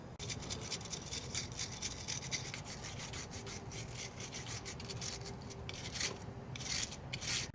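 Car battery terminals on a 2017 Toyota Tacoma are scrubbed to remove corrosion, producing quick repeated rasping brush strokes up close, steady and fairly quiet, with no voices.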